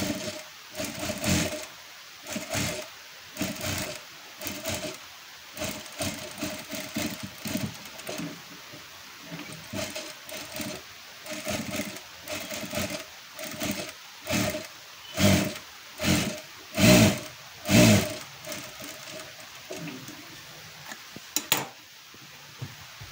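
A sewing machine stitches a golden lace blouse in rapid bursts of close mechanical whirring, stopping and starting many times, with louder runs near the end and no talking.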